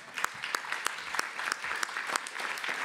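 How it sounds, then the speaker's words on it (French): Light, sparse applause from a small conference audience welcoming students, individual claps spaced distinctly over a few seconds, fairly quiet and without voices. "on vous applaudit"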